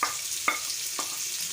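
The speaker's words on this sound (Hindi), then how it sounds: "ऑयल मैंने शामिल कर दिया, तो अब इसके अंदर मैं शामिल करूँगा प्याज।" Onions frying in hot oil in a kadhai, a steady broadband sizzle with a couple of sharp stirring clinks, no talking.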